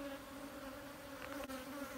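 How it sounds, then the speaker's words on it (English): A dense swarm of angry bees buzzes loudly and continuously, an agitated droning hum close by. "This is what happens when you make bees mad."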